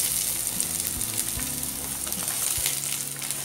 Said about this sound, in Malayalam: ഇനി ഇതിലേക്ക് 2 സവാള ചെറുതായിട്ട് അരിഞ്ഞത് ചേർത്ത് കൊടുക്കാം.